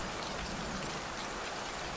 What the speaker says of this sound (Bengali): চারিদিকে বৃষ্টির খলখল শব্দ